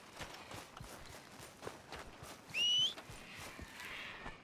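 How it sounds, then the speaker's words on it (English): Horse hooves clip-clopping in Red Dead Redemption II, a steady rhythmic trot of soft hoofbeats at moderate distance, with a short whistle cutting in partway through. "Damn that horse."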